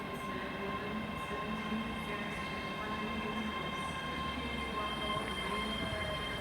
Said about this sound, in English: coming in is a Class 385 unit for Glasgow